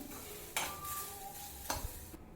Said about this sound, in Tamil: லோ ஃப்ளேமில் வச்சு வறுத்துக்கோங்க